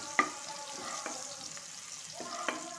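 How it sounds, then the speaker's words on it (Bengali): Garlic fries in a pan of oil with a bay leaf and five-spice seeds. A faint, quiet sizzle is broken by a few sharp clinks of stirring, and no one speaks. "এই তো আমি ভালোভাবে রসুনগুলো ভেজে নেব।"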